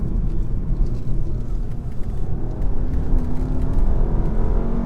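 Steady engine roar and road noise from inside a 2018 VW Passat accelerating hard on the road, loud and continuous with a rising whine toward the end, no talk.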